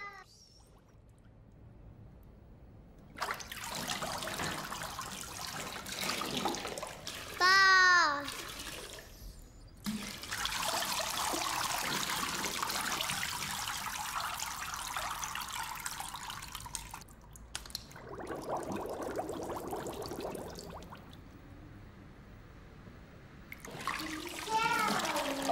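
Water trickles and splashes in uneven bursts from a bottle full of holes, with a cat meowing in between and quiet voices nearby.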